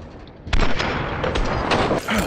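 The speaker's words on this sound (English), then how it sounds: "I heard two LaBelles go off." LeBel marksman rifle shots ring out in the game Hunt: Showdown, several sharp reports with rolling echo in quick succession, loud and close over a noisy background.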